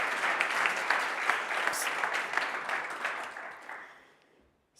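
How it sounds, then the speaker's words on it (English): Steady applause from a crowd at a startup demo day, dense and sustained, fading away toward the end into near silence. "Big applause so for LucidWrite."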